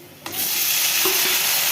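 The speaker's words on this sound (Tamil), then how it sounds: "இப்போ நம்ம தக்காளியை ஆட் பண்ணிக்கலாம்." Tomatoes drop into a pan of golden fried onions and curry leaves for a Tamil cluster-bean kuzhambu, setting off a loud, steady sizzle that bursts in suddenly and holds close and constant, with a few soft stirring scrapes.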